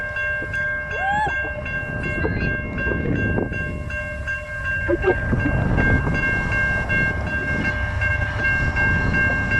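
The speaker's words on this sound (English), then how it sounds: "It is an Amtrak train coming down." An Amtrak passenger train rolls past close by, a steady loud rumble and rattle of wheels on rails with high steady tones from the signal, lasting throughout.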